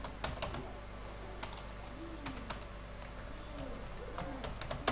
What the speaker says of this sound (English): I think I should type the question.